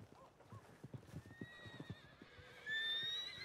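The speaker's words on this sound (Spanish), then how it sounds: "No deben ser caballos salvajes, que son curiosos." Horses in the video game Red Dead Redemption 2: a string of soft hoof clip-clops gives way to a loud, close neigh with rising whinny tones near the end, with faint game ambience around it.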